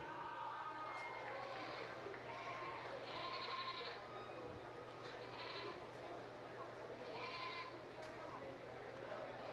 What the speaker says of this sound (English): Our champion full blood doe, Cruz Redden.